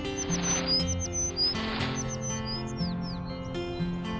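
In an animated children's cartoon, small birds tweet in short, scattered high chirps and downward slurs, moderately faint, layered over soft sustained background music.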